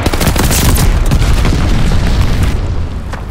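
A glide bomb going off in Call of Duty Vanguard gives one huge, close, rumbling blast that fills the whole moment and then slowly fades with crackling debris, with no talking.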